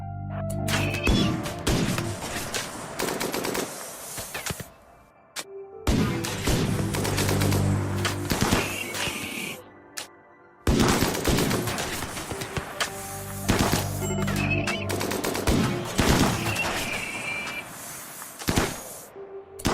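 Dense bursts of gunfire and crashes from the video game Rimworld, set in arid shrubland, with rapid overlapping shots in long continuous stretches and brief pauses between volleys.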